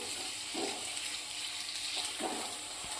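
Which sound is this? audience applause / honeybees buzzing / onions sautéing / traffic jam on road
onions sautéing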